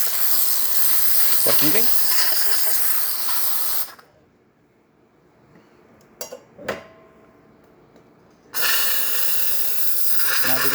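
A Saeco espresso machine steam wand gives a loud, steady hiss that cuts off abruptly, leaving a quiet gap with a few clicks, then resumes just as loudly; a voice speaks briefly.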